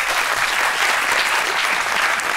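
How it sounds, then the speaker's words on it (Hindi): Studio audience applause on a Pakistani television talk show, a steady, dense clapping that fills the whole stretch alone with no voices over it. "वेरी गुड, तालियां।"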